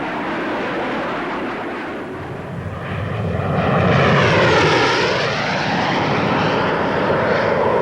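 A Hawker Hunter two-seater jet trainer flies past at an air show, its engine roar swelling into a loud, sweeping pass before holding steady.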